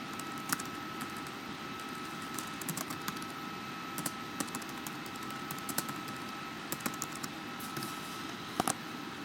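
Steady computer keyboard typing with scattered sharp key taps, including modifier presses, close and clear over a constant electrical hum, with no talking.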